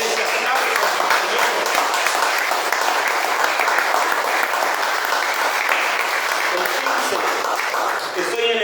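Sustained congregation applause fills a church service, loud and dense throughout with no gaps, steady from start to finish.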